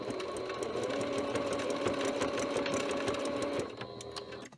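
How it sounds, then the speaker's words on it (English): A sewing machine stitching down a bag handle, a fast steady mechanical whir with rapid needle ticks, close and even, stopping abruptly near the end. "And then I'm going to barely sew it down again,"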